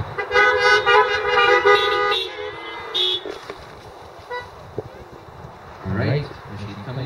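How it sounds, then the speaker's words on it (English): Car horn honks at a drive-in iftar event at the ISNA Islamic Centre of Canada in Mississauga, heard as a few short toots near the start and again around the middle, with voices and crowd noise around them. "Give me a double honk."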